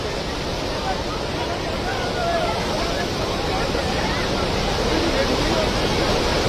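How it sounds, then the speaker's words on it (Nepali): A flash-flood river at the Nepal–Tibet border rushes in a loud, unbroken roar of churning water that fills the whole stretch, with voices faintly beneath it. "खोला कत्रो आयो है"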